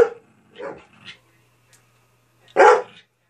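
A dog barks in short bursts: a few quick yips early on, then a single loud, close bark near the end after a quiet pause.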